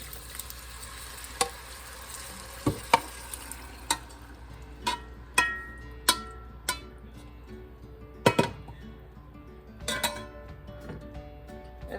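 Pre-cooked pinto beans tumble into a pan and are stirred with a utensil that clacks against the metal at irregular intervals, over a low, steady sizzle of frying.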